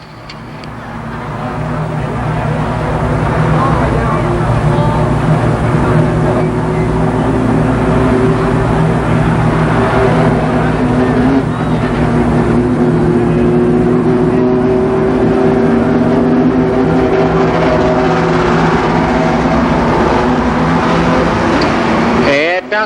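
ARCA Pro 4 race cars run at Columbus Motor Speedway in a 1990 race, their engines swelling into a loud, continuous roar that holds steady with shifting pitch throughout.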